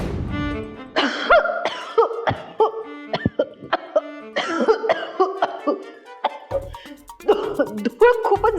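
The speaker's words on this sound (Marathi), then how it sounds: "कोण खोकलं?" Someone coughs and clears their throat indoors in a dusty house, several short harsh bursts scattered among people talking nearby.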